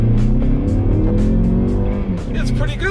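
Engine of a Mazda mid-size crossover revving under acceleration while driving, a loud steady drone with rising harmonics, with people talking over it inside the car.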